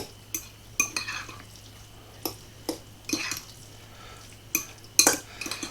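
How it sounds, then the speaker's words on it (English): Cauliflower rice with garlic salt being stirred and folded in a pan, heard as irregular sharp scrapes and clinks of a utensil against cookware with quiet gaps between them, close by and without speech. "we're just going to take and mix all that up and continue to just fluff and fold"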